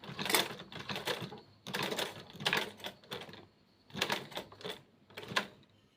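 A sewing machine runs in short rapid bursts of stitching with quick pauses between them, close and clattery, as a backstitch is sewn.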